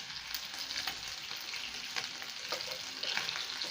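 Cooked beef for biryani is stirred in a pot, giving a close, steady sizzle with scraping and clatter. No one speaks.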